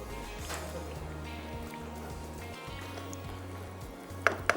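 Potatoes are stirred into a pot of aloo gosht meat curry, a soft steady sizzle and low bubbling under faint background hum, ending with two light clinks of a spoon against the pot.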